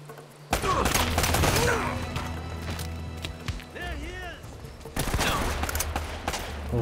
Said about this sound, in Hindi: कहां से गोलियां चल रही हैं